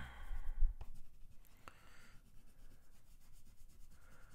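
Oil pastel in a rust shade rubs and scrapes softly across paper, with short quiet strokes and light scratchy textures close up.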